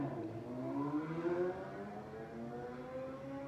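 A motorbike passes by at a distance, its engine note rising and then falling as a faint, smooth drone beneath a quiet indoor setting.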